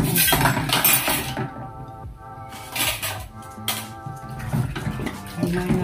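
Glasses and plates clink and knock together under running tap water while being washed, bursts of splashing and ringing clatter close by.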